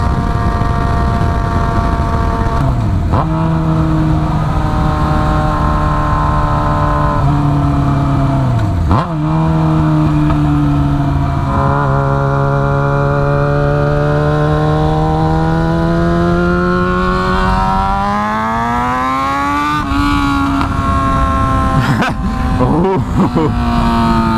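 A Yamaha FZ6R motorcycle with a timing advance mod accelerates on a ride, its loud engine note climbing through the gears in rising sweeps with brief dips at each shift, close and continuous with wind noise.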